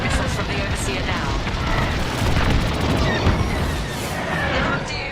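Palladium missiles fire from the Overseer in Star Wars Squadrons with a dense, roaring boom and rumble that stays loud and continuous, broken by deeper thuds.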